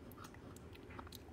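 Someone chewing and crunching a mouthful of paw-brand breakfast cereal, steady biting and munching sounds close up, continuous and fairly quiet with no talking.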